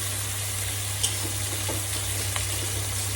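Half-fried onions sizzle in a pan during home Bengali cooking, giving a steady close crackle with a low hum underneath and a few soft clicks.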